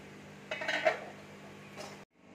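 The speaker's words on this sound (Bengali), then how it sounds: "এবার আমি থালাটা নামিয়ে নিচ্ছি।" A steaming plate is lifted down with a short metallic clatter and scrape of dishware, close and fairly quiet, before abrupt silence.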